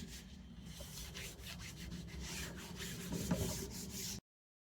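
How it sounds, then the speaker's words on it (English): A cloth rubs gently across a painted canvas, a soft, steady, faint scrubbing with rhythmic strokes and no voices. "We're just going to use this cloth and gently rub away any of the excess."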